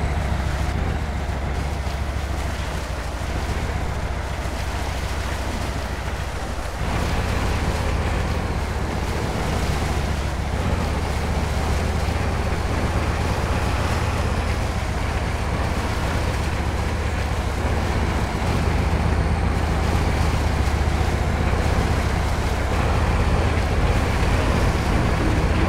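A log truck ploughs through water in the SpinTires video game, making a continuous loud rushing, churning wash under a low engine rumble that keeps going for the whole stretch, with no talking.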